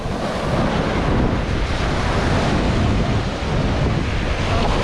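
Waves and surf wash steadily onto Jomtien beach in Pattaya, Thailand, with gusty sea wind buffeting the microphone, forming a loud, continuous roar with no talk.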